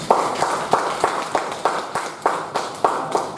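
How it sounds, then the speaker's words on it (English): Applause from a Toastmasters meeting audience as a member is welcomed on stage, a steady run of sharp claps with a regular pulse, fairly close and with no talking over it. "Let's give a big round of applause to bring Toastmaster Nischal Sharma on stage"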